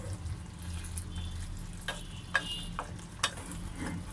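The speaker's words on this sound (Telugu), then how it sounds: "అడుగంటుతుంది కాబట్టి మధ్యలో మధ్యలో కలుపుకోవాలి" Gongura (sorrel leaf) chicken curry is stirred in a pan, with soft scraping strokes and a few sharper spoon knocks over a low, steady simmering sizzle.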